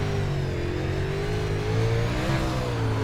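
An UMP Modified race car on the Lanier track in iRacing holds a steady, close engine roar, its pitch wavering slightly with throttle and no talk over it.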